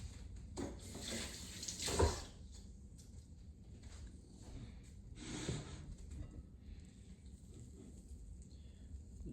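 Water runs from a tap while hands are wet for folding sourdough, a soft uneven splashing with a couple of louder gushes, close by and fairly quiet.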